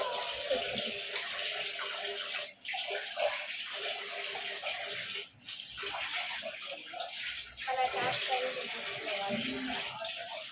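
Water running steadily from a household tap, a continuous splashing gush with small fluctuations and brief dips, while people talk over it.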